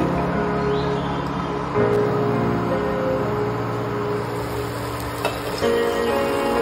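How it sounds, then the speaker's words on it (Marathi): Dum aloo masala with potatoes cooks in an open pan, giving a steady close sizzle and frying hiss that runs the whole time, with a few faint clinks and small shifts partway through and no talking. "त्यावर आपण आता झाकण ठेवू 5 मिनिटं शिजू देऊ."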